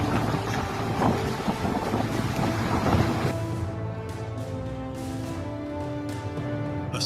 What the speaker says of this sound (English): A sudden gust of wind swept through, sending outdoor furniture flying as if it weighed nothing.